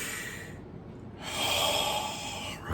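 A voice imitates heavy breathing, with a sharp snorting intake, a pause, then a long loud rushing exhale, close to the listener.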